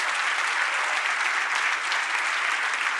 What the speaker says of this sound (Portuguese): Vamos aplaudir a Deus, irmãos.